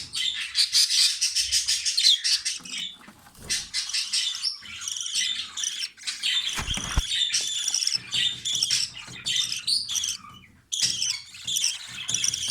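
Budgerigar chicks and their parents chirp nonstop in a home aviary, a dense, close chatter of high twittering calls and squeaky squeals with brief pauses and a short thump midway.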